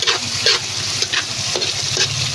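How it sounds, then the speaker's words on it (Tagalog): A Filipino dipping sauce for meat, fish and boiled vegetables stirred in a pan, with a soft continuous sizzle and rhythmic scraping strokes of a spoon repeating roughly every half second. "Haluin natin, siyempre."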